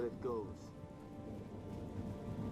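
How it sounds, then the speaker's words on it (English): Steady rain pattering in Halo Reach, falling over a dried riverbed on the way to a hydro plant, a constant wash of drops under game music and effects. "Doesn't look so dry to me with all this rain."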